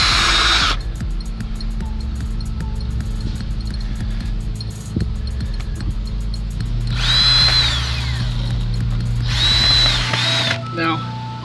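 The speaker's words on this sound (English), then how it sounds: "doing is just putting some screws in here halfway." A power drill drives screws partway into a garden fence outdoors in several whirring bursts of varying length, close and fairly loud, with someone speaking briefly in between.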